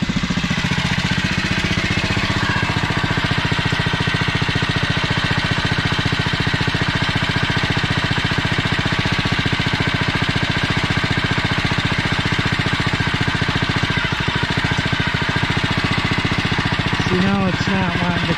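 A REO Trikeabout trike engine idles steadily and loudly up close with an overtightened drive belt, a constant mechanical chug running the whole time, with a brief voice near the end.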